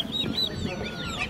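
Chickens and chicks cluck and cheep together in a busy, crowded chorus at a bird market in Kazan, with faint voices murmuring in the background.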